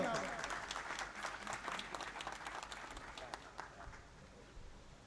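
Audience applause at a mushaira poetry gathering in Hasilpur, a steady wash of many hands clapping that slowly thins out over a few seconds, with crowd murmur beneath.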